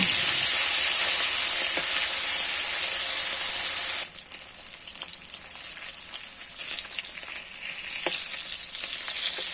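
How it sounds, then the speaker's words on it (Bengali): Hilsa fish pieces frying in hot oil, a loud continuous sizzle that drops suddenly partway through as the fish are flipped, then crackles on more unevenly with small spatters. "মাছগুলো এক পিঠ ভাজা হয়ে গেছে উল্টে দিচ্ছি"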